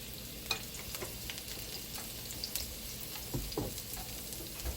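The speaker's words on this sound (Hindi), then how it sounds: "इसे थोड़ा सा स्टिर फ्राई करके" Two cloves of garlic stir-fry in about two tablespoons of oil, giving a steady quiet sizzle with light scraping and stirring clicks throughout, no voices.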